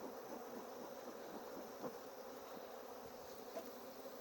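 Honeybees droning in a steady, soft, continuous hum from an open hive nearby, with no break in the sound.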